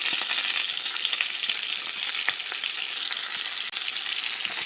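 Garlic and ginger sauté in hot oil in a pan, making a loud, continuous crackling sizzle with small pops and stirring scrapes, heard close up without any talking.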